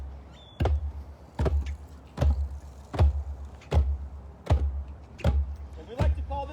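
Eight deep, resonant thumps from a hand drum struck in the middle of the head, evenly spaced about three-quarters of a second apart in a slow, heartbeat-like pulse, close and clear.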